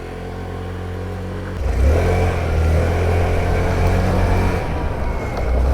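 A Sym Symphony SR 125 scooter pulls away, its small engine idling low then revving up and holding a steady, droning pull close by, with no talking.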